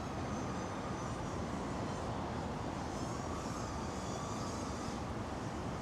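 An FPV drone flying wall dives with a FlyWoo Fly Lens 85 gives a steady broadband buzzing roar, continuous and even throughout, with no talk.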